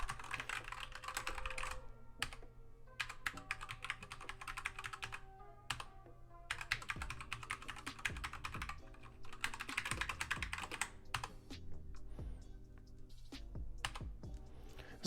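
Steady, close-up typing on a Keychron K2 v2 mechanical keyboard with white backlight, crisp rapid key clacks in uneven bursts with brief pauses, clear and alone without any voice.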